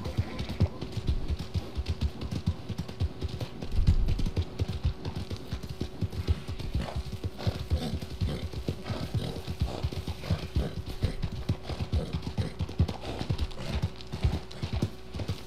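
Horse hooves clip-clop at a gallop in Red Dead Redemption II, a dense, steady rhythm of close, loud hoofbeats running the whole way, with a brief heavier thump partway through.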